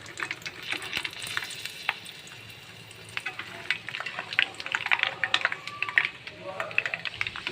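Peanuts frying in hot oil, a steady soft sizzle with bursts of crackling and stirring clicks that grow busier toward the end, heard close and alone.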